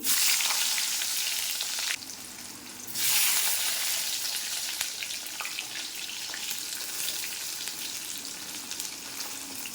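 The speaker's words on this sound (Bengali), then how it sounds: "তেলের মধ্যে দিয়ে দেবো বেগুন" Eggplant pieces fry in hot oil for Bengali shukto, giving a loud, dense sizzle that briefly drops away, then returns and settles into a steady crackle with no voices.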